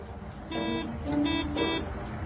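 Car horns honking in city traffic at a red signal, with several short toots repeating about every half second over a steady background of road noise.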